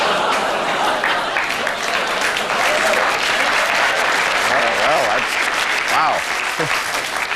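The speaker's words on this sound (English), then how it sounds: "Booing going into applause." Studio audience at a talk show, with booing turning into steady, loud applause that fills the room, plus a brief spoken exclamation near the end.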